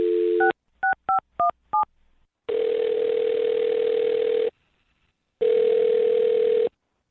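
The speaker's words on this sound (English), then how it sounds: "I'm going to dial his phone number." A phone number is dialed as a quick series of four short two-tone DTMF beeps after a brief opening tone, followed by two long steady ringback tones separated by silence, all clean and close with no voices.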